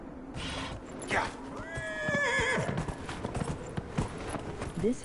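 A horse in Dragon Age: Inquisition lets out a loud, close whinny over steady clip-clopping hooves, the hoofbeats carrying on after the neigh.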